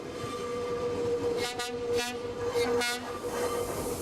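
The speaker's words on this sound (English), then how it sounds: "The train departs from the heart of the city." Tren Crucero passenger train pulling out of central Quito, Ecuador, with a steady rumble of rolling cars and several loud horn blasts in short bursts over the running noise.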